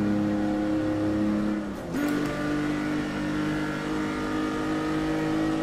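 A Ferrari Dino 246 GTS accelerates in Test Drive Unlimited 2, its engine holding a loud, steady drone that dips briefly as a gear changes, then climbs again and keeps pulling.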